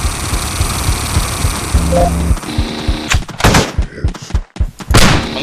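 Heavy rifle fire in the top-down shooter Teleglitch, a burst of sharp, loud shots repeating in quick succession over a droning game background, growing denser and harsher toward the end.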